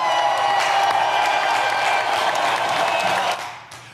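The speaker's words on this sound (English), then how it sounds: "clap for them, y'all." Audience applause with scattered cheers from a live crowd, a steady dense patter of claps that holds at full level for over three seconds before tapering off near the end.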